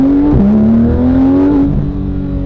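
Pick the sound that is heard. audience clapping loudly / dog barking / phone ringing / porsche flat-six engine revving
porsche flat-six engine revving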